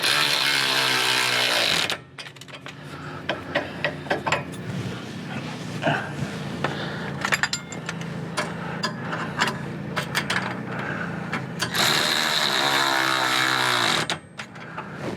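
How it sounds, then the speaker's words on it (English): An electric ratchet tightens Kelderman dual steering stabilizer bolts on a Ford Super Duty truck, with short whirring and clicking bursts in a stop-start rhythm between quieter handling noises and a louder steady run at either end. "If you guys do not own an electric ratchet, get one."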